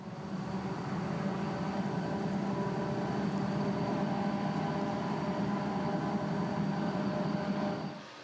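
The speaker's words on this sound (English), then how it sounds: "we'll never know what kind of headlight is on the lead unit of this eastbound train" Six EMD diesel locomotives hauling an eastbound train on Cajon Pass in 1995: a steady, continuous rumble with a droning hum, holding even for about eight seconds before fading abruptly at the end.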